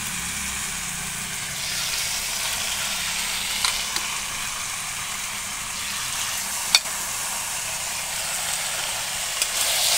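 Meat frying in a pan during kosha, the slow Bengali stir-fry, gives a steady hiss and sizzle with a few soft clicks of stirring, heard alone and without talk.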